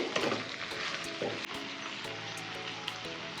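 Tomatoes sautéing in a pan, a steady close crackling sizzle with intermittent stirring scrapes and clicks throughout, no voices.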